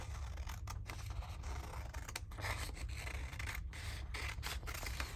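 Fabric scissors cut through large sheets of paper during a crafting session, with a series of close, crisp snips and rasping slices repeating unevenly.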